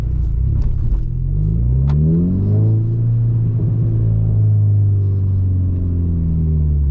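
A Volkswagen Scirocco R with a 265 hp engine and its muffler removed drives past with a loud, continuous exhaust rumble that rises and falls in pitch as it accelerates.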